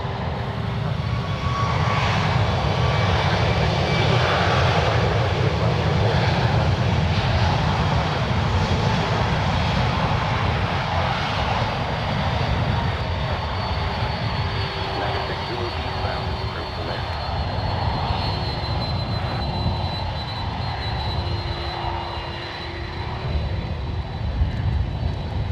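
A jet airliner takes off at San Francisco International Airport, its engines producing a steady, loud roar that holds for the whole stretch, with radio voices talking over it.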